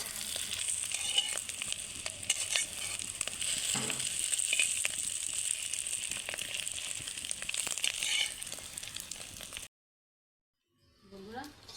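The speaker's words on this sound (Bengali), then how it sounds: "ডিমগুলো ভাজা হয়ে গেছে" Eggs frying in an oiled pan give off a continuous crackling sizzle for most of the stretch, close by and fairly steady, then it cuts to silence before a brief murmur of voices.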